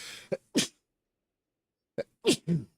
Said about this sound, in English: It's been a day for sneezing.